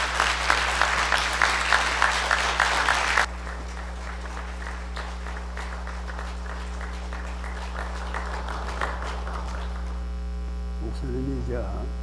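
A lecture audience in a church hall applauds to welcome a visiting professor, a few seconds of clapping over a strong steady mains hum that then fades, leaving the hum and faint room noise.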